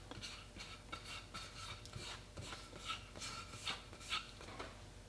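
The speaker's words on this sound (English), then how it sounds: "I want to wipe it down with a tack rag, just pulling a lot of that dust off" A tack rag is dragged over a sanded wood rifle stock in repeated quick rubbing strokes, a faint, rhythmic scratchy swish, close and steady, with no voices.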